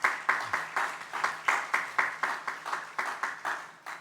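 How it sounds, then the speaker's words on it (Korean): A church congregation at a university gathering claps in unison, with about fifteen even, rhythmic claps at a steady pace, moderately loud and echoing in the hall. "우리 박수 한번 하겠습니다."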